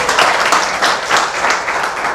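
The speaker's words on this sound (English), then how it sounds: "Clap for Jyoti." A classroom of students bursts into brief, loud applause, a dense close patter of many hands clapping with no voices over it.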